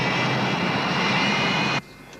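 Steady loud roar of jet airliner engines inside a DC-9 cabin before takeoff, holding constant and then cutting off abruptly near the end.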